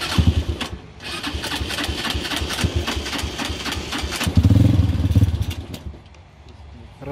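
A small engine burning homemade olive oil fuel sputters and struggles to hold an idle, running rough and uneven with a brief louder surge before it fades. Voices speak nearby.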